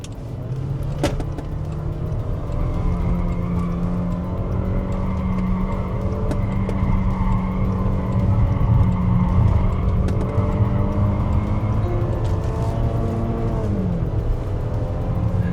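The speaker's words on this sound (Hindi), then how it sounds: "तो एग्जॉस्ट नोट भी काफ़ी बढ़िया साउंड करता है।" Exhaust note of a 2026 Range Rover Velar in sport mode during a night drive, a steady engine drone heard from inside the cabin with a rising pitch near the end.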